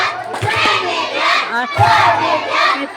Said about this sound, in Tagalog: bigyan natin sila ng 5 milyong palakpak